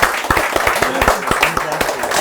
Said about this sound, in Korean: 두 분께 큰 박수 부탁드리겠습니다.